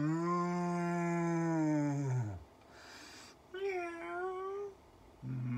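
A human voice imitates a cow's moo in a long, low drawn-out call, then after a brief pause gives a shorter, higher vocal call.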